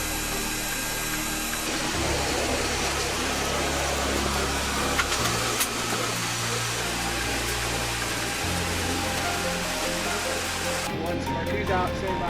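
Boeing C-17 Globemaster III jet engines throttled up before takeoff, a loud steady roar and rumble that holds for several seconds with a shifting whine near the end.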